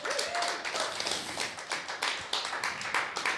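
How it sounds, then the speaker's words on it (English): An audience at a poetry café applauds a featured poet, with steady, dense clapping from many hands that carries through the whole stretch and has no speech over it. "Let's give him a big round of applause for being so amazing."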